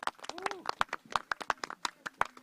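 Small audience closing a discussion forum on a Gyeonggi village policy platform with sparse, uneven individual hand claps, close and distinct, with a brief voice sounding underneath.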